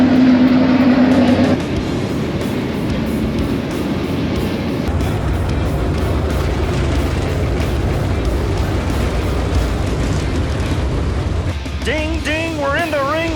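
World of Outlaws sprint cars roar together at Arrowhead Speedway in Oklahoma as a race starts, a dense, loud, sustained engine din with brief whistling tones near the end.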